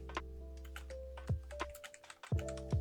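Computer keyboard keys tap in short irregular bursts close by. A steady electronic hum runs underneath the typing.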